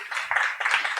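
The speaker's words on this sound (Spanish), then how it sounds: "Un aplauso para Sonia Zurita" Brief clapping from a small audience at a panel event, a few quick hand claps in a short burst at moderate volume.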